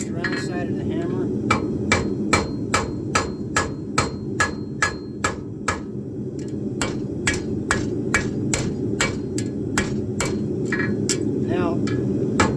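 A farrier's hammer strikes a metal horseshoe in a quick, steady series of ringing blows, loud and close, with brief pauses between runs.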